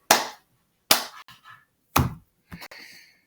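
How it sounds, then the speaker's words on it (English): Four sharp hand claps sound alone in a quiet room, spaced about a second apart. Each is followed by short softer taps or echoes. "I'm going to record 2 more seconds of me clapping."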